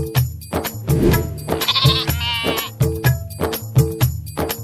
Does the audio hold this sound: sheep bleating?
yes